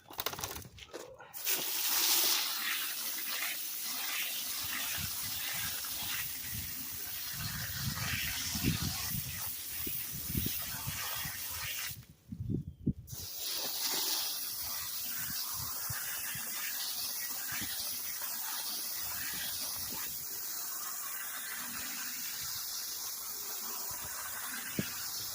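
Water sprays from an old garden hose onto disassembled parts of a Murray 450 Series 20-inch push mower, a steady broad hiss running throughout, briefly cut off near the middle and then resuming.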